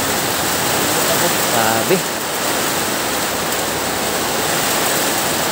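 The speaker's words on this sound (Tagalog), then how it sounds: "Lakas ng ulan." Heavy rain pouring down outdoors in a rural province, a loud, dense, continuous hiss that fills the whole clip, with a brief voice cutting through the downpour.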